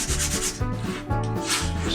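A flat sanding stick rubs back and forth across a plastic wheel from a 1/35 Airfix Cromwell Mk IV tank model, making steady, close, gritty strokes in a quick repeating rhythm with no talking.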